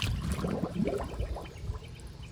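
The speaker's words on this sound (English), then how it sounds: "Submerge test in 3, 2, 1." Close bubbling and gurgling water as an airsoft grenade launcher is pushed under the surface, with soft splashes and trickling.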